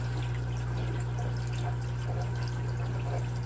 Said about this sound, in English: Just the pump pumping water.